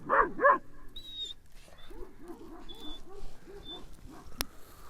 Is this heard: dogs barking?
yes